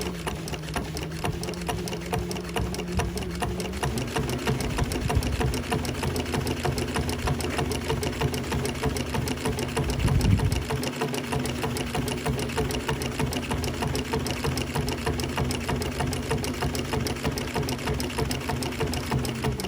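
A sewing machine stitches steadily along the edge of a fabric dopp kit bag, a fast, even mechanical whir held nearly continuously, with a brief change in pitch partway through and no talking.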